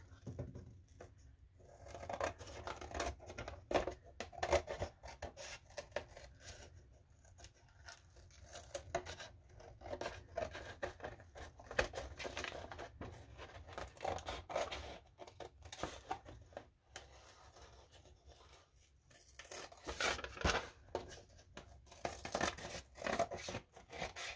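Scissors trim the edges of a cereal box junk journal cover in faint, irregular snips and cardboard rustles that continue for the whole stretch, quiet and close, with no talking.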